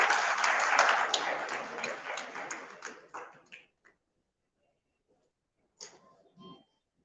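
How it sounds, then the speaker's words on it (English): Audience applause at the inauguration of an education expo in India, a broad wash of clapping for about three seconds that thins out and stops, followed by near silence and a couple of brief, faint bursts. "Please give a big round of applause."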